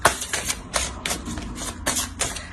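An oracle card drawn from a deck during a reading, heard as a quick run of close, crisp taps and flicks from card stock being handled in several short bursts, with no voices.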